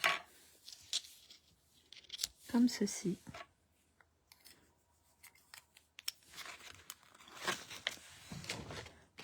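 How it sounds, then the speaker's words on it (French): Scissors snip through paper while a handmade greeting card from the Jardin paisible collection is crafted, giving short crisp cutting sounds that come in brief bursts between soft, close speech. "je prends mes ciseaux et je viens couper"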